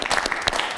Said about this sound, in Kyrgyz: Кол чаап коелу анда Нурмат мырзага.